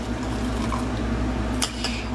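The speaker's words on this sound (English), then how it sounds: "And you just pour it in your cup" A drink poured into a cup, a brief close liquid trickle with a small splash near the end, no speech.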